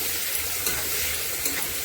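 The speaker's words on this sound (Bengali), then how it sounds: "মাছের ভিতরে একটু লবণ দিলাম, একটু হলুদ, এই দিয়ে মাছটা ভেজে নেব" Shrimp seasoned with salt and turmeric fry in hot oil, a steady close sizzle with brief stirring scrapes, no one talking.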